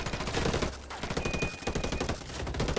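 Rapid automatic gunfire rattles through a Ghost War online multiplayer shooter match, with dense overlapping bursts and shots that stay loud and close from start to finish, with no talking.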